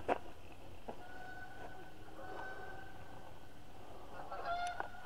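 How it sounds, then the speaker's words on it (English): Geese honk outdoors at a moderate distance, with several short calls scattered over a few seconds above a steady low background hum. "Oh, that's geese."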